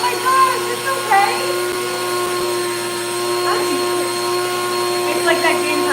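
A grain mill grinds flour on its finest setting with a steady, loud mechanical whine and hum that runs throughout, while people talk over it.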